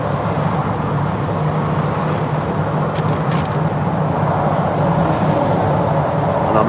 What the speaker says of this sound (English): And I'm in Harry's nice new car